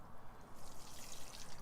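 Liquid seaweed drench pours gently onto soil around a young chayote plant, a soft, continuous trickle and splash at close range, fairly quiet, with no talking.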